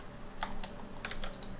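Computer keyboard and mouse clicks while alt-clicking through bevel edits in 3D modeling software, a quick run of light, close taps and clicks over about a second and a half with no talking.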